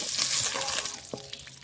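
Egg and potato fry in a pan with a steady hiss and soft crackle, and a light stirring scrape partway through.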